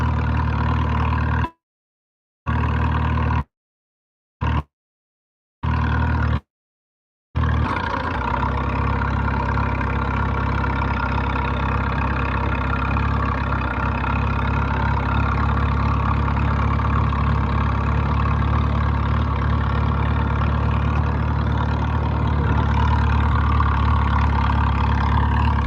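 A Super C tractor engine chugs with a steady, loud low rumble that holds nearly constant throughout, with brief gaps of silence early on before the running continues uninterrupted.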